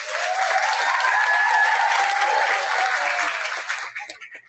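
Convocation ceremony audience at Brooklyn Lab applauding the speakers, with clapping mixed with whoops and cheering voices. The sound holds loud and steady, then thins out and fades near the end.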